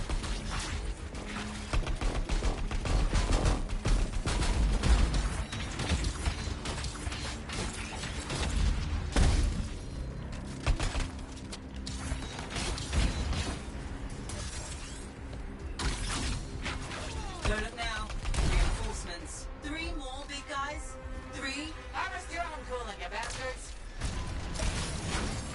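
Gunfire in the shooter game Anthem: a sustained clatter of rapid weapon fire and impacts, dense and loud, thinning somewhat toward the end.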